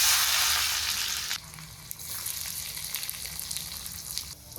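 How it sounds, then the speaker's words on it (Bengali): Chopped onions hit very hot mustard oil in a kadai with bay leaf and dried chilli, first a loud rushing sizzle, then it drops to a lighter steady crackle with small pops, close by and with no voices. "কড়াইতে সর্ষের তেল দেই, তেজপাতা শুকনো লঙ্কা, তেল বেশি গরম হয়ে গেছে, পেঁয়াজ কুচি দিলাম"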